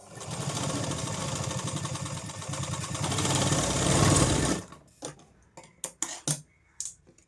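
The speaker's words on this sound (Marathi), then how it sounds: "शिलाई मारताना आपल्याला सेम लॉक करायची आहे शिलाई आणि सोडताना ही लॉक करूनच सोडायची आहे" A sewing machine stitches a katori blouse, running in a fast continuous whirring burst for several seconds, then a few short start-stop spurts of stitching up close.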